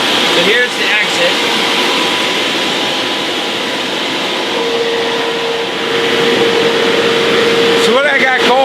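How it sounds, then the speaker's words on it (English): Three blowers running at once inside an inflatable paint booth, a loud, steady broadband roar with a faint hum that holds throughout. A few brief louder rustles break in near the start and end. "there's actually 3 blowers in operation"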